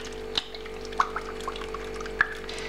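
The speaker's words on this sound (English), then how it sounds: "we're just going to put it through the sieve" Ice cream mix for commercial use poured through a sieve, a soft liquid trickle under a steady hum, with a few faint drips and taps.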